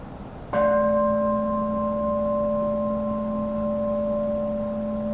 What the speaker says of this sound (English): the meditation will start with the sound of the bell